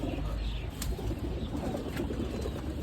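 Pet pigeons coo softly amid a steady hum of background noise, with a couple of brief wing flaps or rustles and no talk.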